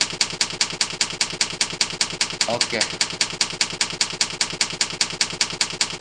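A typewriter typing sound effect in video editing software, with rapid, evenly spaced key clacks repeating nonstop without pause, while someone briefly speaks over it.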